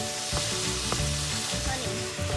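Steak strips sizzle steadily in a hot pan, a loud close hiss punctuated by a few sharp spatula strokes and scrapes as the meat is stirred, with no speech.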